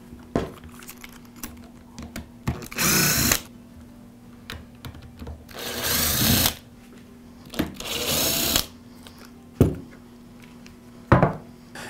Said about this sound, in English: Now I'll remove the 4 screws that secure the transmission to the housing.